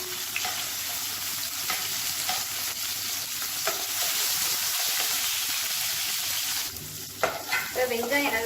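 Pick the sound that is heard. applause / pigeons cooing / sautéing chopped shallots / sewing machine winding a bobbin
sautéing chopped shallots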